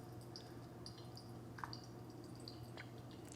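Water dripping through a Hario V60 pour-over coffee brewer, faint scattered drips and small splashes over a steady low hum.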